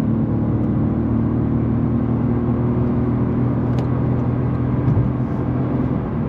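A Toyota Yaris GR Sport accelerates on a dual carriageway, heard from inside as a steady, loud cabin rumble of engine and road noise with a continuous low whir and no voices.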